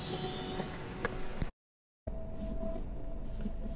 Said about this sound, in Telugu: సో మన ట్రైన్ అయితే వచ్చింది